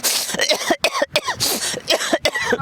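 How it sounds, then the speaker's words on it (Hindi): A run of repeated coughs and throat-clearing sounds from a man, loud and close, coming in several quick bursts with short gaps between them. "खांसी नहीं जा रही है आपकी?"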